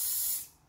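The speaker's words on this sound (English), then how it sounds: "I'm going to be using this mold release spray" Mold release spray hisses from an aerosol can outdoors in one steady burst that cuts off and trails away, with no talking.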